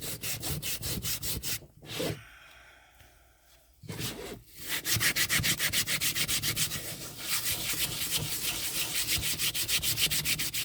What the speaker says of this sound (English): This is bad sandpaper, okay? It's cheap.